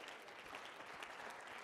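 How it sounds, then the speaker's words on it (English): Faint, distant applause from an audience at a leadership talk, a steady wash of many hands clapping with no voices over it. "A round of applause."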